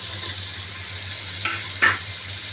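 Chopped capsicum and onion frying in a pan, a constant soft hiss with a couple of brief utensil clinks near the end and no voices.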